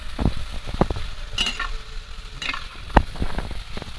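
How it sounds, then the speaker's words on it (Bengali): Potato slices frying in hot oil for crisp potato chips, a steady soft sizzle with scattered crackles and a few louder pops and stirring knocks, fairly close, no talk. "আলুগুলো কিন্তু খুব ভালো করে ভাজতে হবে"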